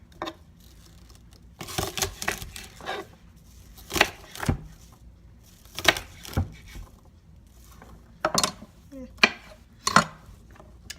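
Asparagus cut into one-inch pieces with a knife on a cutting board, heard as irregular sharp taps and chops, some in quick clusters, against a quiet kitchen background.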